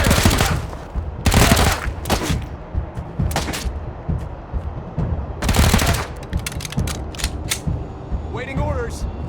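Gunfire in the Wasteland 3 video game during a combat encounter: several loud bursts of automatic fire spaced across the span with mechanical clanks and game effects between, and a brief voice line near the end.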